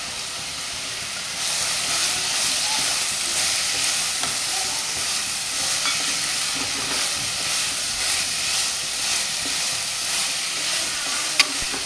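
Green chillies and vegetables including potato, drumstick and shallots are sautéed in a hot pan, a loud, steady broadband sizzle that holds throughout, with faint stirring scrapes underneath and no talking.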